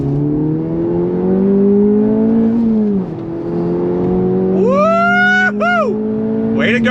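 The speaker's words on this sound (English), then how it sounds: "That's what I like about being behind the wheel of this Integra Type S." Engine of an Acura Integra Type S with a six-speed manual, pulling steadily then climbing sharply in revs through a quick gear change, loud and close from inside the cabin.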